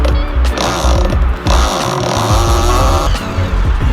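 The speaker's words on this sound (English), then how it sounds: "Let's go ahead and drill it." A hand drill bores a hole in car parts during a cheap DIY turbo install on a Chevy Cruze, a loud buzzing whine with rough grinding chatter, cutting out briefly and restarting in short bursts.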